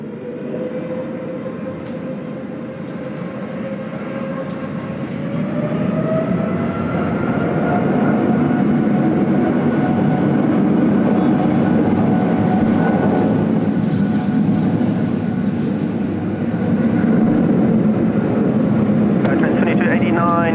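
Qatar Airways jet taking off from Sydney Airport on runway 25 in high wind, a broad engine roar that swells and holds loudly through the clip while people speak over it.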